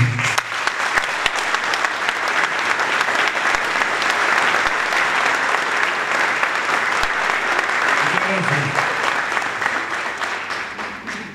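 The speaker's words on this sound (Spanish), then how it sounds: "Recibimos con un gran aplauso a Nicolás Casanseu." Long, steady applause from an audience welcoming a speaker to a talk about the Malvinas, thick and continuous clapping that fades slightly near the end, with a brief voice underneath.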